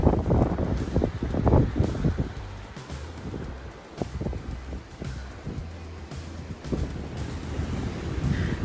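Surf at Kasap Beach in Pacitan, Indonesia rolls in and washes against the shore, mixed with gusty wind buffeting the microphone; no voices, a steady outdoor rush.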